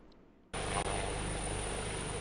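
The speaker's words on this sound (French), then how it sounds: "l'hélicoptère présidentiel atterrit à l'héliport de Katiola" Presidential helicopter landing at the Katiola heliport, a loud broadband rotor and turbine roar that starts abruptly after a quiet moment and holds steady at close range.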